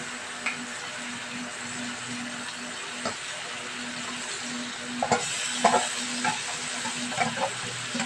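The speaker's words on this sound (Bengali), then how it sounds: "এইরকম কষাবো এখন ঢাকা দেবো না ঢাকা দিলেই জল বেরিয়ে যাবে" Chicken sautéed in a kadai, a low steady sizzle with intermittent scraping stirs that grow busier toward the end, close and fairly quiet, with no talk.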